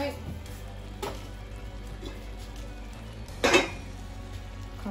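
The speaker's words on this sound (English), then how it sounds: "continue to stir it." Chicken chop suey is stirred in a pan, with a low continuous hum, light clinks of utensil on metal and one louder scrape and clatter near the end.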